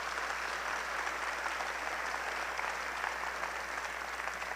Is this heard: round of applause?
yes